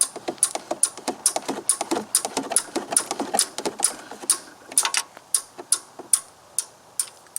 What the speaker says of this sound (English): I'm just going to try to lightly tap it loose